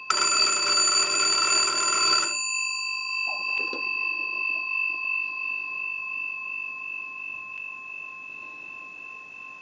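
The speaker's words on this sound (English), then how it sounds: "the original bells are ringing when you crank the magneto" A loud electric bell rings continuously for about two seconds as the magneto of a Western Electric 317 wooden wall crank telephone is cranked, then stops, leaving a faint steady tone and soft clicks.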